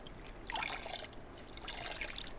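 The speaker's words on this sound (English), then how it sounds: "So it's dripping, but it's not dripping wet, right?" Water trickles and drips from a soaked, half-wrung clean microfiber towel during a rinseless car wash, a faint light splashing in two short bursts.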